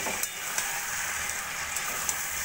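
Cooked mixed vegetable curry in a pan, freshly uncovered after simmering on low flame, gives a soft, steady sizzle with a few light clicks and scrapes of stirring.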